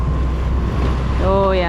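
Large ocean swells roll around a sailboat at sea, a continuous loud wash of water and wind buffeting the microphone, with a brief high whistling tone near the end.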